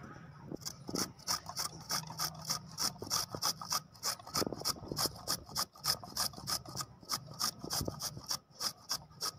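Peeled beetroot rubbed against a kitchen grater, a fast, steady run of rasping strokes close to the mic, repeating evenly throughout with no talk.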